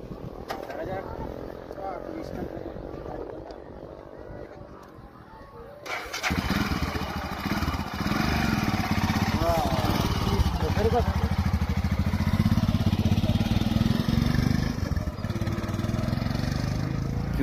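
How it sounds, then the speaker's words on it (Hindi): A Royal Enfield Himalayan motorcycle rides fast, its engine a steady loud drone that swells noticeably partway through and stays strong to the end, with wind rush over it and voices talking beneath. "আমি আজকে হিমালয় বাইক চালাচ্ছি"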